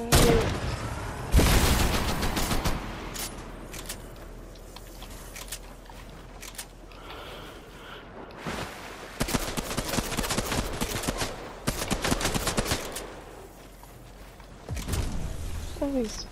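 Scattered gunshots and rapid bursts of fire in a video game, loud cracks at the start and clustered volleys later, mixed with players talking.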